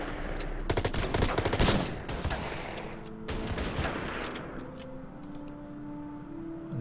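Gunfire from the wartime strategy game Order of Battle: Winter War, a cluster of loud rapid shots and bursts early on that thins into scattered reports over continuous battle noise, with no talk.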